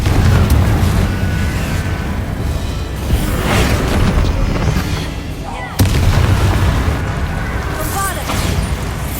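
Fire spell blasts in the Hogwarts Legacy video game, dense crackling bursts and booms over a continuous loud battle din, with a sharp hit near the middle and a voice calling out spells.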